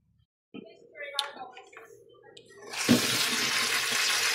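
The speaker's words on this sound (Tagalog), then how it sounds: "Hugasan sa nato itong nakuhang kalamansi sa labas." Freshly picked calamansi are rinsed under a running kitchen tap, first with clattering and knocking as the fruit is handled, then a steady, close rush of water that continues to the end.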